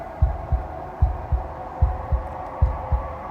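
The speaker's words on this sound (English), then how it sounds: "a wooden and fleshy heart beating with an unbroken rhythm" A wooden, fleshy heart beats with an unbroken rhythm in the video game Slay the Princess, each low double thump repeating steadily over a droning ambient hum.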